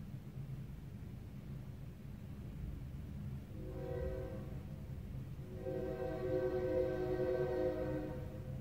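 Train of the Gatekeeper roller coaster at Cedar Point, a low rolling rumble with rising tonal whine and harmonic screech swelling in two waves as it passes nearby.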